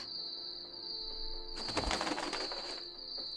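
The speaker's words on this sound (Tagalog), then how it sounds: "Kuwago? Kuwago lang pala." An owl calls with low cooing hoots and a burst of flapping wings as a sound effect in a horror story narration, set over a steady high electronic tone.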